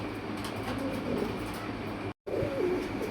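Caged pigeons, a pair offered for sale, coo softly in a few low, wavering calls over a steady background hum with no talking.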